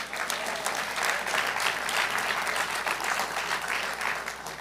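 Steady, dense applause from an audience at a parent leader forum, clapping for pre-K for all; continuous and even for the whole stretch with no voices over it.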